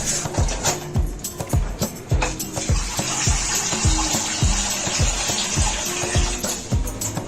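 About a glass or glass and a half of water poured into a pot of chicken leg pieces for a steam roast, a close, loud splashing gush with repeated thumping knocks.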